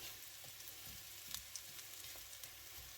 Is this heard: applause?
no